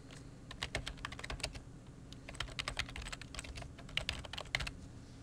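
A computer keyboard being typed on in quick, uneven bursts of close, quiet clicks, no voices.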